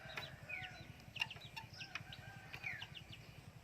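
Backyard domestic chickens at feeding time cluck and chatter softly, with a steady low rhythmic pulsing underneath and scattered higher calls, all fairly faint and continuous with no one talking.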